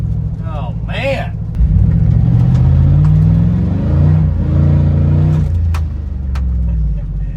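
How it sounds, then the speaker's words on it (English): A GMC Denali drift truck fitted with an MSD 2-step rev limiter revs hard, with a loud, close engine roar that bounces and pops against the limiter. Rising and falling pitch sweeps cut through, and people talk over it. "That rev limiter is spicy."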